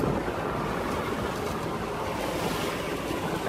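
A boat cruising at sea off the coast of Tavernier, near Islamorada and Key Largo: a steady, loud wash of wind and water rush with engine rumble underneath, continuous and unbroken throughout.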